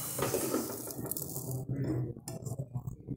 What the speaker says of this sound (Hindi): ये पैन के अंदर चीनी शामिल करेंगे।